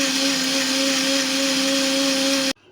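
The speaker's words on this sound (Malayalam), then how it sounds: "ഇനി ഇത് മിക്സിയിൽ നന്നായി അരച്ചെടുക്കുക." Kitchen mixer grinder whirring steadily at high speed as it blends bilimbi fruit with cardamom, sugar and cold water into a drink, a loud continuous motor drone that cuts off abruptly at the end.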